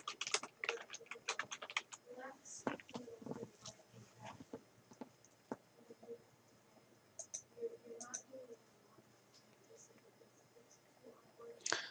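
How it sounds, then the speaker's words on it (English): Quiet bursts of typing on a computer keyboard while entering text into a PowerPoint SmartArt graphic, irregular clusters of light key clicks with pauses between them, close and soft. "I'm done with the typing portion"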